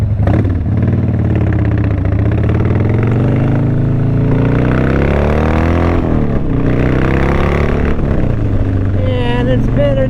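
A motorcycle engine runs steadily during a ride, its pitch rising and falling with the throttle in a loud, close rumble throughout.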